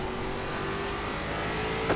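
Race car engine from an ARCA Menards Series stock car at Langley in the iRacing sim, a steady, droning roar that holds at an even level throughout with no voices.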